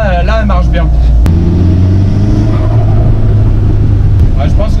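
A VW Golf prepared for 400-metre drag racing revs hard, its engine holding a steady, loud droning note with wheelspin noted, while voices talk briefly at the start and near the end.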